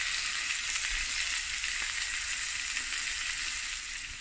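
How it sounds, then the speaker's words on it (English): Steak sizzles on a grill pan over fairly high heat, giving a steady, close, hissing crackle that continues without pause and fades slightly at the end. "that sizzle sounds amazing"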